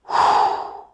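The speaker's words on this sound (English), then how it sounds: "we're going to be breathing in through our mouth" A single deep inhale through the mouth during a forward-leaning torso stretch, close and clear, rising quickly then tapering off over about a second.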